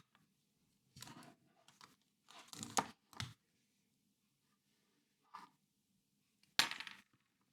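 Tape tearing off a roll while a fashion doll sewing pattern is being made: a few short, quiet ripping bursts separated by silence, with one sharper tear near the end.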